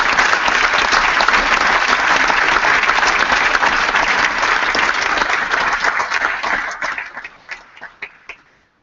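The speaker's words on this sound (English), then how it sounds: "Can we give all our mentors a big, big round of applause?" A live audience at a Kick It Out event gives the mentors a loud, dense round of applause that holds steady, then thins out into a few last scattered claps before fading.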